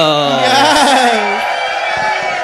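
A drag show viewing party crowd at a bar cheers with loud, high whoops and screams that rise and slide in pitch, then fade into scattered clapping and crowd noise.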